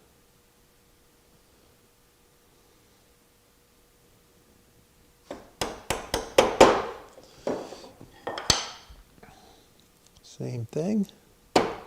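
A 1/4 inch chisel chops a mortise in a wooden workpiece held without a clamp, giving a run of sharp, close knocks and taps after a quiet start, mixed with someone talking.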